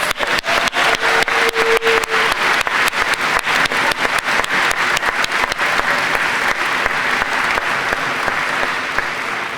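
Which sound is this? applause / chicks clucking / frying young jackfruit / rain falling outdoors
applause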